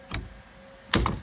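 A quick-release steering wheel on a light 1,900-pound vehicle gives two sharp, close plastic clicks, one near the start and a louder double click near the end, with quiet between them.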